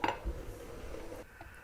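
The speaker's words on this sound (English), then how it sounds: "I know what that sound is. It means I need to lock down my dough hook." Faint metallic rattling and clinking from a stand mixer whose dough hook has come loose while kneading dough for Chinese custard steamed buns, a brief low-level clatter with no talk.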